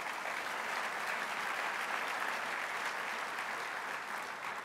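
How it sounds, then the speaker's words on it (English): An audience at a city address applauds steadily, a dense wash of many hands clapping throughout, moderately loud and even. "you should give yourself a round of applause for that"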